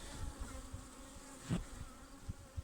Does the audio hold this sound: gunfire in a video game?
no